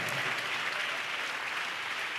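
A church congregation applauding, a dense, even roar of many hands clapping at once, sustained and fairly loud throughout.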